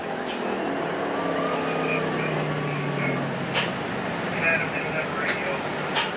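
Factory stock race cars roar around the Perris Auto Speedway dirt oval, a steady blended engine drone with rising and falling pitch as cars pass, under a race announcer's talk.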